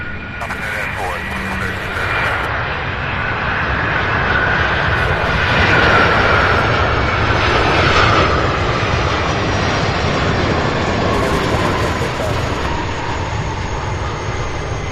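A FedEx jet at Louisville airport gives a loud, sustained engine roar that builds slightly toward the middle, with bursts of radio chatter and talk over it.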